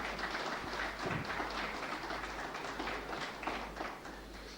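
Scattered audience clapping at a cricket team press event, a broad steady wash of hand claps at moderate level filling the whole stretch with no voices over it.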